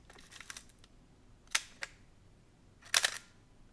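A Praktica film camera, fully mechanical and fitted with a portrait lens, fires its shutter via a wired release: several quiet, crisp mechanical clicks, the sharpest two spaced about a second and a half apart, heard close and alone.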